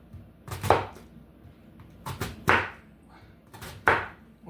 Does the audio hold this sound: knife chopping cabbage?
yes